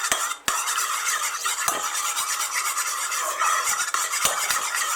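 Caesar salad dressing of oil and minced garlic is mixed in a jar or bowl, a close continuous wet scraping and rubbing with squeaky utensil strokes and a few sharp taps, fairly loud and without speech.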